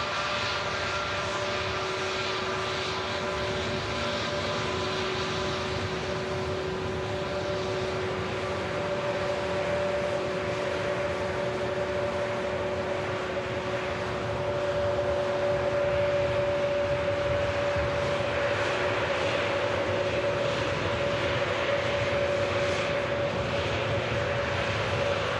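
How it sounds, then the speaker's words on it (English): An Aegean airliner arriving from Athens at Manchester Airport gives a long, sustained engine roar with steady whining tones, growing louder toward the end and heard alone. "There's the Aegean, arriving in from Athens."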